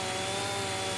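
A brief burst of a thin, snarling chainsaw felling trees in a logging roleplay game, held at a constant high pitch, loud and near.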